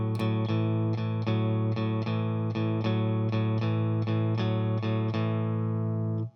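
An overdriven electric guitar strums a blues chord pattern in an even, steady rhythm, two quick strums per beat, ringing loud and sustained before stopping abruptly.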